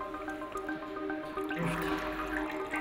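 Fuel pours steadily out of a leaking hose as the tank keeps siphoning empty, a continuous splashing, gurgling flow heard close by with no pause.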